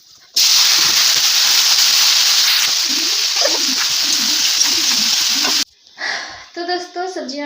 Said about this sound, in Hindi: सब्जी में मैंने तड़का लगा दिया